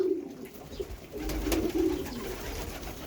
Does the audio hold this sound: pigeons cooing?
yes